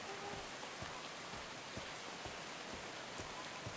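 Rain falling in the survival game Atlas, a steady, soft hiss of rainfall with faint scattered patter, constant and unbroken with no voices.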